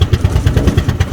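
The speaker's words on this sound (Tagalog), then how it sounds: "Alright, the engine stopped." Boat engine running steadily on a ride across shallow ocean water near Lahuy Island, Caramoan, Philippines, shortly before it stalls, heard as a loud, close, regular chugging throb with no voices.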